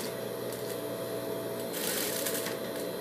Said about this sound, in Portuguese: vamos costurar toda a volta